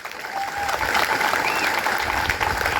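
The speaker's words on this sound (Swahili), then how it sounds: "Tupigie Kalonzo makofi" Dense crowd applause for Kalonzo Musyoka at a Kenyan political rally, steady and fairly loud throughout, with a few cheers mixed into the clapping.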